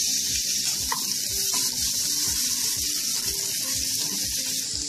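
Garlic sizzles in hot olive oil in a pan, a steady, fairly loud crackling hiss with small pops running throughout, no voices.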